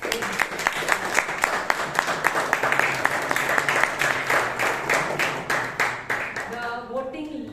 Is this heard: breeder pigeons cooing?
no